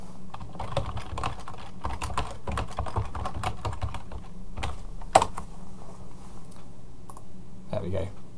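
Rapid typing on a computer keyboard, a close, irregular run of key clicks with brief pauses, a voice speaking now and then underneath.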